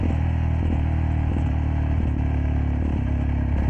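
A stock-silencer Jawa 42 Bobber motorcycle runs steadily close by, its exhaust giving a continuous low engine drone with intermittent popping and crackling bursts throughout.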